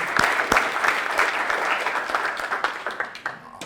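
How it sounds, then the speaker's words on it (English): Town hall audience claps for a downtown development board, with sharp individual claps inside a broad spread of applause that thins and fades toward the end. "Okay, we'll clap for"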